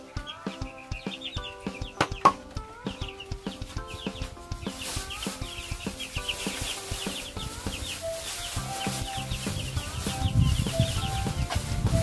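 Chickens cluck and call repeatedly in a small backyard poultry coop, with scattered rustling and knocking, and a rooster-like crow rising briefly over the steady farmyard noise.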